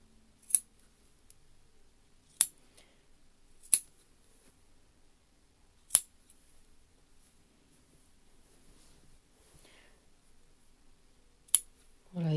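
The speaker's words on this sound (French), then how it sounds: "on va dégarnir un petit peu les surplus de couture" Scissors snip at wool seam allowances on a jacket being lined, about six sharp, isolated cuts spaced irregularly across near silence.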